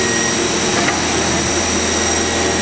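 A 1998 Hitachi Seiki HT20SIII CNC turning center with its spindle running at 2,500 RPM, giving a steady, continuous machine whine and hiss with a faint high tone, loud and unbroken throughout.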